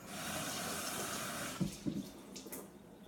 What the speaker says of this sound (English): Here's another peach. It needs to be washed as well.